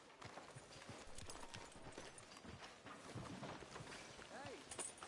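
Horse hooves clip-clopping in a video game, a steady rhythmic patter of hoofbeats heard faint and mid-distance beneath ongoing talking voices.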